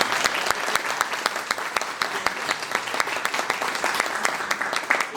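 An audience claps for Jose in a lively, steady round of applause, with distinct sharp individual claps standing out over the dense crowd clapping, close and fairly loud, without talk.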